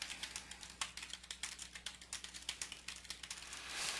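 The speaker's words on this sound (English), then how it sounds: "So if I keep typing" Rapid, irregular clicking of keys on a computer keyboard as someone types steadily, close and fairly quiet over a faint low hum, with no voices.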